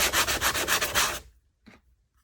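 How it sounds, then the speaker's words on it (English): Hand sanding smooths a Durabond patch on an interior door, a close, loud series of rhythmic back-and-forth scrubbing strokes, about seven in a row, then a pause and one short final rub. "I'm going to need to do a final finishing sand on the surface here"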